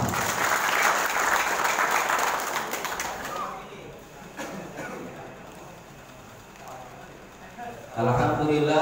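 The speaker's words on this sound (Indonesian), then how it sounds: "tepuk tangan bagi semua" A gathered congregation before a morning duha prayer breaks into applause, a dense burst of clapping that fades after a few seconds, leaving quieter crowd sounds and talk, then resumes loudly near the end.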